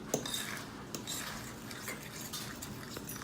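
Pancake batter being worked around a mixing bowl with a utensil, giving soft, continuous scraping and clinking of metal against the bowl at close range, with no talking.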